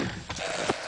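Horse hooves clip-clop in a brief, fairly loud burst of a few uneven steps, a short whinny-like tone rising near the end over a steady background hiss.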